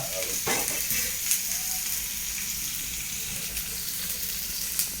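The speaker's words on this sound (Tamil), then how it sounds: "போட்டு ஒரு கிண்டி நல்லா வெங்காயத்தை ஒரு வதக்கி" Onions sautéing in a pan, a loud continuous sizzle with occasional stirring scrapes, close up and without speech.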